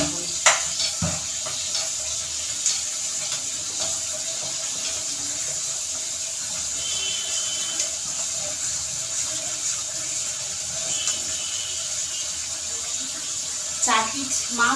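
Tap water runs steadily into a sink as pieces of fish are washed, with a constant hiss, a few clatters and light handling sounds toward the end.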